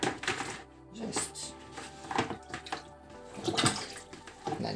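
Water from a garden hose pours into a bucket at close range, a continuous splashing gush that swells and dips in loudness, with faint background sounds and no talk.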